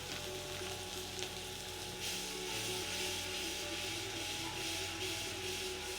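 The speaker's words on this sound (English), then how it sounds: "we're going to take a big knob of butter, throw that in the pan" A big knob of butter sizzles loudly in a hot pan alongside a searing steak for steak au poivre, a steady dense frying hiss that swells slightly midway and continues without speech.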